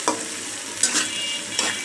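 Onion frying in a pan with whole garam masala spices such as cardamom and bay leaf for a chicken bhuna: a steady close sizzle with soft stirring scrapes, no voices.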